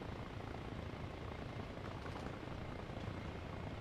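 A helicopter flies in Arma Reforger, its rotor and engine a constant heavy, rumbling drone that stays loud and steady with no other sounds on top.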